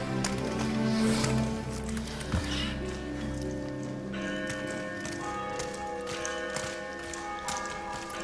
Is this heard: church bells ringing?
yes